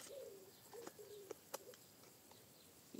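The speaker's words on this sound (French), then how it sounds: "Il y a une colombe ou un pigeon qui roucoule." A dove or pigeon coos several times at moderate distance, soft low repeated calls with gaps between, alongside a few faint clicks and a brief knock near the end.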